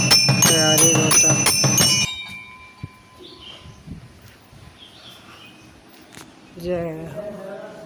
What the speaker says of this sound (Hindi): लाठी जा घंटी बाजता सब देखा आरती होता